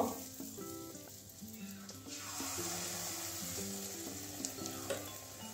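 Soybean fritters with egg sizzle in hot oil in a home kitchen, a constant frying crackle over a background of steady tones and light clatter, no talking.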